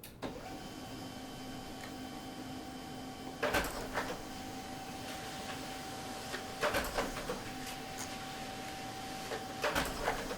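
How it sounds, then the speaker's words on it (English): An office printer runs with a steady mechanical hum and whine, broken by repeated clunking and rattling of paper feeding, heard alone at moderate level. "Now you get to listen to my printer."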